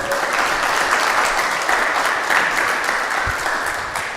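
Steady, dense applause fills a community center audience after an attorney's speech, loud and continuous, fading slightly at the end with no voices over it.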